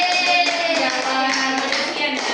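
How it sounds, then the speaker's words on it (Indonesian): Classroom students clap together for a presenting group, a dense, continuous patter of many hands lasting a couple of seconds, fairly close and steady. "beri tepuk tangan untuk kelompok 2"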